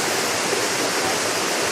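A waterfall in Richmond, Virginia pours in a continuous, dense rush of falling water. The roar is steady and fairly loud, with no voices over it.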